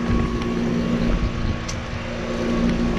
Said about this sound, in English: Rheem value series heat pump running in cool mode.